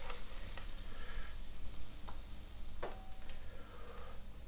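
Plum tomatoes sizzle and crackle steadily in a frying pan of a full English breakfast fry-up, a close continuous hiss with a few sharper pops and light clinks, no talking.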